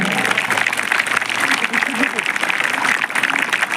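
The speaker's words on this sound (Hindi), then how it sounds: "आपकी तालियां भी दोहरी होनी चाहिए।" An audience at a ceremonial gathering in India bursts into sustained applause, dense continuous clapping throughout with a voice audible over it.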